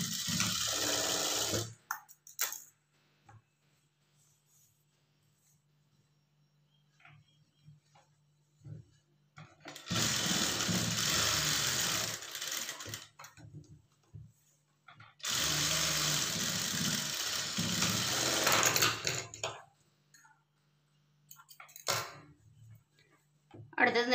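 A sewing machine stitches a blouse front in three separate bursts of a few seconds each, divided by quiet pauses in which small handling noises are heard, with no talk.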